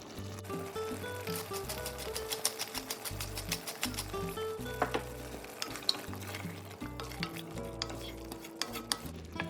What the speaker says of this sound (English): I'm gonna get all those brown bits that are on the sides and the bottom of the pan scraped and added into that sauce